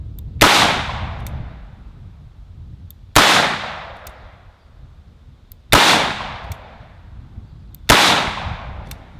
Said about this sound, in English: I'm just going to shoot these double action.